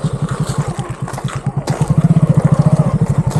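Two off-road motorcycles run close by on an off-road trail near Samalkot, with a loud, throbbing engine note that steadies into a fast, regular pulse.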